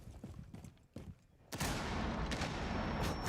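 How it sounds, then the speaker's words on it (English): Grenades exploding in the Rainbow Six Siege video game during an esports match, a few scattered thumps and then a sudden loud blast that becomes a dense, continuous roar of detonations and debris. "being carpet bombed by grenades at this point in time"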